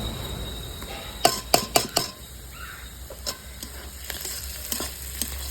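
Chicken fries in a pan during Bengali home-style cooking, with a continuous sizzle under several sharp clinks and scrapes of a spatula stirring against the metal pan, clustered early and then spaced out.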